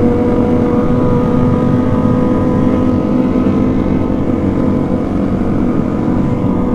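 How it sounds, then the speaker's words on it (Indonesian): A loud, continuous engine roar with a throaty rev, like a motorcycle running close by, steady throughout with no pauses. "Ternyata suara dari motor ini."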